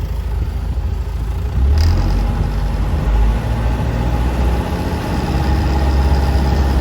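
A tractor engine pulling a seeder runs steadily, its low rumble rising slightly as the throttle is opened. It is loud and close, with a short bump in level near the start and no talking over it.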